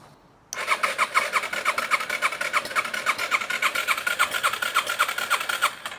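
A Yamaha TTR 230 motorcycle engine, clogged after long abandonment, cranks over repeatedly in a rapid, steady chugging rhythm without catching, loud and close, after a brief quiet start.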